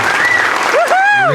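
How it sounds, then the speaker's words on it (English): Brief applause at a community thank-you gathering honours Jeremy, Ben and Deb of Jeremy Cares. A broad wash of clapping sits under a speaking voice for just over a second. "Let's give a round of applause once again to Jeremy, Ben, and"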